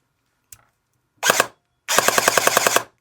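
An airsoft M14 rifle fitted with a Perun ETU fires on full auto: a short burst, a pause, then a longer rapid rattling string of sharp close shots, heard alone.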